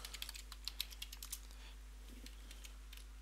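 Several quick keystrokes on a computer keyboard while a command is typed on a Linux system, a brisk cluster of light clicks that tapers off, then near quiet with a low steady hum.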